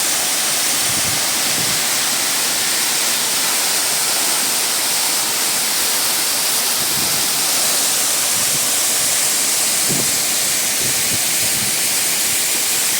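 A waterfall in the Western Ghats roars steadily and loudly, a dense, unbroken wash of rushing water with no pauses and no voices.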